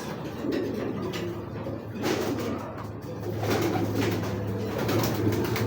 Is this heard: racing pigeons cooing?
yes